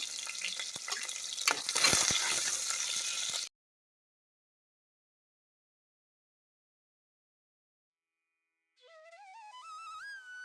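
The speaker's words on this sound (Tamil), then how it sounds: "இந்த மாதிரி கட் பண்ணி வச்ச சின்ன வெங்காயம் 1/2 கப் அளவுக்கு சேர்த்துட்டு நல்லா ஃப்ரை பண்ணிக்கலாம்" Chopped shallots hit hot oil in a pan for a loud, dense sizzle with stirring scrapes, then silence, then a higher crackling sizzle returns near the end.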